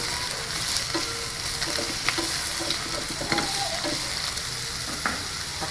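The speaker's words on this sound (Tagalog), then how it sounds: "Mix natin carrots guys." Carrots for sweet and sour being stirred in a hot pan, a dense steady sizzle close up, punctuated by irregular scrapes and taps of the utensil, with no talking.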